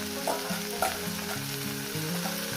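Dried shrimp and beto greens fry in a pan over medium heat, giving a steady close sizzle with a few stirring scrapes and no talk.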